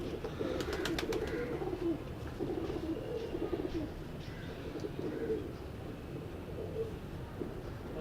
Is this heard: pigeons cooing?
yes